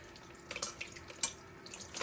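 A razor clam rinsed under a running kitchen tap, water splashing softly and unevenly into the sink in brief surges, close and fairly quiet, no talking.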